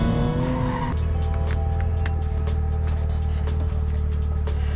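A BMW E36 drift car spins donuts, its tires squealing loudly and continuously over a roaring engine, with short bursts and rattles breaking up the steady screech.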